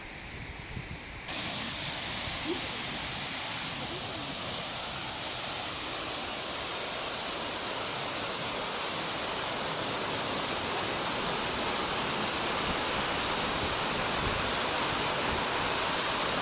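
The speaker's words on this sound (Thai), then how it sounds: "แตตัดภาพที่น้ำตก" Huai Mae Khamin waterfall pours in a constant, dense rushing roar close by, steady throughout after a brief quieter moment at the start.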